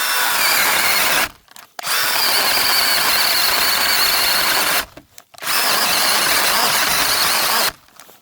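Cordless saw cutting through sound hornbeam wood outdoors, a loud continuous whine broken by two short pauses as the cut is restarted, close by with no talk.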